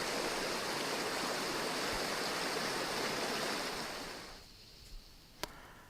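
Steady broadband rush of falling water, loud and continuous, that fades abruptly near the end, leaving near-quiet with a couple of faint clicks.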